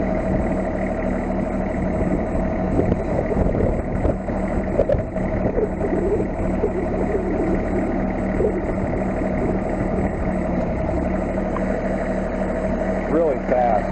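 A Massey Ferguson 1526 tractor engine runs at a steady 1150 RPM, giving a constant, close, even drone for the whole stretch while someone talks over it.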